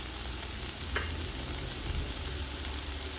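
Small netholi anchovies go into a hot frying pan for fish peera, a brief clatter near the start giving way to a constant close sizzle and light stirring, with no one talking.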